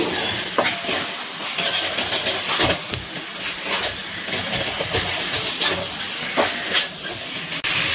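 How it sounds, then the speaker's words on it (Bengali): Chicken is stir-fried with spices in a pan for chicken masala, producing a steady hissing sizzle with occasional scraping stirs throughout, close and fairly loud. "এবারে খুব ভালো করে মাংসের সাথে মশলাগুলো নাড়াচাড়া করে মিশিয়ে কষিয়ে নিচ্ছি।"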